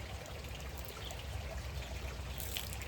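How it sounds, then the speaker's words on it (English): Pool water trickling and pouring while test tubes are rinsed out during pool water testing, a steady close splashing dribble without talk. "We're going to rinse out the tubes with pool water"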